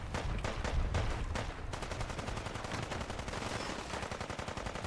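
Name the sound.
gamma gun firing in Fallout 4 video game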